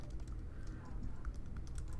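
Rapid close keystrokes on a computer keyboard sitting just behind the microphone, a steady patter of soft clicks with a low background rumble.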